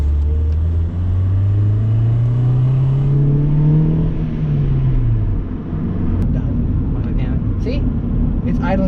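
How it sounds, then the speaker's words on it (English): Honda car engine idling high at about 2000 rpm, a steady loud low drone whose pitch rises and then sinks, with people talking over it inside the car. "It's idling at 2 grand."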